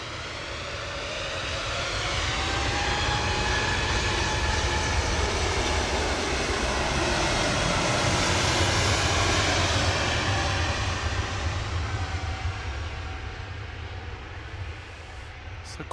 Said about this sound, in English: Lufthansa 2505 to Munich nach München, the AIJH A320 Neo.